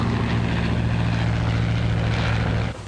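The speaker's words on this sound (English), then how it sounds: "Every plane's running right along." A propeller airplane engine drones at a constant, loud pitch without letup, then drops off abruptly at the very end. No one speaks.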